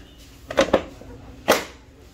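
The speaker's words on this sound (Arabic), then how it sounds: "دي صوت التكه بتاعت التركيب" Plastic clips on the cover of a split air conditioner snap into place: two quick close clicks, then a third a moment later, sharp and distinct against a quiet room.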